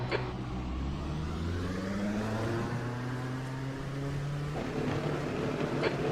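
An LMP2 prototype race car engine at Sebring revs hard, its pitch climbing and dropping through several gear changes in a harsh, steady drone heard close by.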